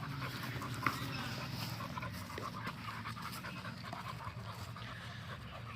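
Dogs pant heavily and steadily while scrambling over rocks on an outdoor walk, a close, continuous rhythmic huffing with faint whimpers and no talking.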